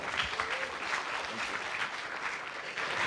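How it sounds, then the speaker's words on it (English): An audience at a business engagement-plan launch event claps in sustained applause, dense and steady throughout, filling the room at moderate volume with no talk over it. "Give them a big round of applause."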